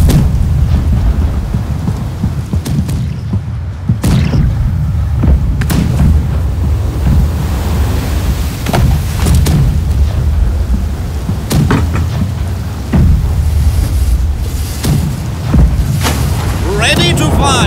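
Ship cannons blasting in the naval combat game Blackwake: heavy booming shots, one after another, over a constant loud roar of sea and wind.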